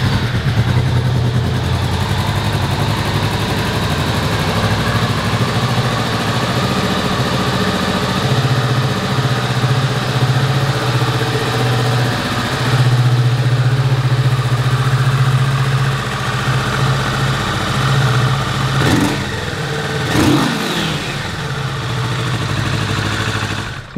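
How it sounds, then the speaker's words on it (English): A 2022 Kawasaki Z650 motorcycle engine runs at a steady, loud idle close by, a continuous low burbling drone with slight fluctuations and a couple of brief blips near the end. "let's go ahead and fire it up and listen how she sounds"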